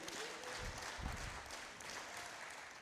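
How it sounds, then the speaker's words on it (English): A church congregation claps hands in praise during a Sunday sermon, a steady, fairly faint wash of applause lasting throughout with no voices over it. "Somebody give God a hand clap of praise"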